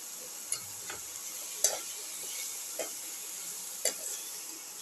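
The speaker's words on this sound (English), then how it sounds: "Saute these thoroughly." Cauliflower pieces sautéing in a pan for a ginger cauliflower potato dish, a soft steady sizzle with occasional light scrapes and taps of a spoon against the pan.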